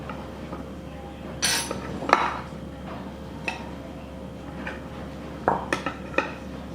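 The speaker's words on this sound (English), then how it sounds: "I'll remove the plastic wrap, put a little in my bowl." Plastic wrap peeled off a chilled no-bake banana cream pie, then a utensil serving it into a bowl, heard as scattered light clinks and scrapes against dishware over a quiet room.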